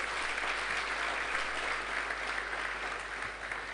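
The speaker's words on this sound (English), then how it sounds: "it deserves another round of applause" Steady audience applause at the launch of the Nigeria Learning Passport, a thick, even patter of many hands clapping at once without pause.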